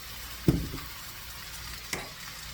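Jumbo shrimp and greens frying in a big pan for a shrimp and white bean salad, with a steady low sizzle broken by two sharp stirring clatters, the first louder, close and without talk.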